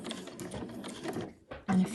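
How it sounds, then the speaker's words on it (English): Domestic sewing machine stitching a strip of bunting fabric, its motor whirring in steady bursts with a brief pause before a louder final run, close and unaccompanied by speech. "Pop that under my sewing machine,"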